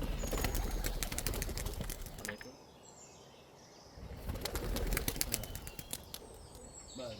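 A burst of wings flapping as pigeons are released from coops, loud and busy, fading to a quieter lull before another round of fluttering and faint chirps, in a forest village.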